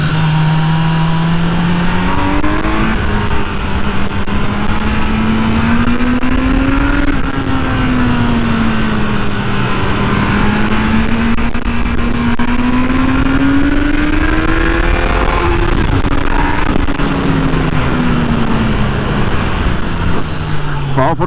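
A 2020 Kawasaki Z900 motorcycle engine revving while riding, the pitch rising and falling through repeated accelerations and gear changes, loud and close over constant wind rush.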